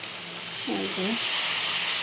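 Prawns sizzle in a hot pan as a little water is added, a steady frying hiss that swells and grows louder partway through, with a brief faint voice-like tone near the middle.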